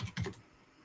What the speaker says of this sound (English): let's type X Arcade in here